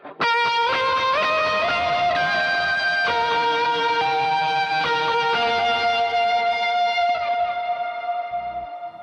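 Electric guitar chorus tone driven by the third stage of an Aspen overdrive, sustained chords and melody lines thick with distortion, echo and reverb, loud and continuous throughout with no voices.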